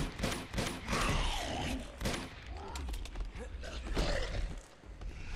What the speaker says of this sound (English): I shot him right in the fucking mouth!